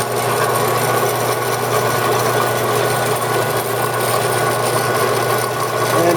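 A Vectrax 7x12 metal-cutting band saw runs continuously nearby, its motor humming under a steady rasping whir of the blade, with no talk.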